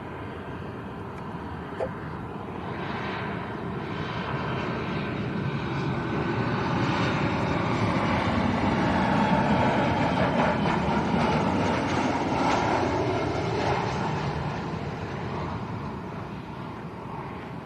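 A TUI airliner at Lanzarote Arrecife Airport roars past with a broad, steady jet rumble that swells to a peak midway and slowly fades, with no talking.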